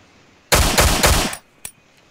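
A burst of rapid video-game gunfire in Miscreated, roughly three quick volleys blurring together for under a second, loud and close, followed by one sharp isolated shot.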